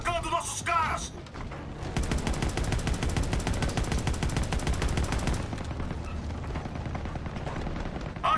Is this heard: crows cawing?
no